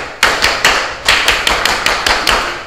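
Rhythmic Indonesian scout clap (tepuk pramuka) by a group, ten sharp unison hand claps in a patterned beat, loud and close with short gaps between bursts.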